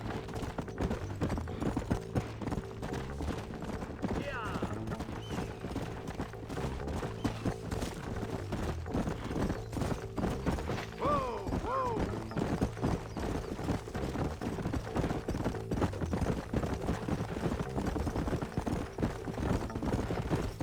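Horse hooves clip-clop steadily in Red Dead Redemption, a continuous rhythmic trot running the whole time at moderate loudness over a low droning game soundtrack, with an occasional whinny.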